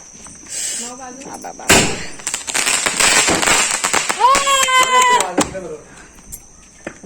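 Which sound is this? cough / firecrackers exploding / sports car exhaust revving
firecrackers exploding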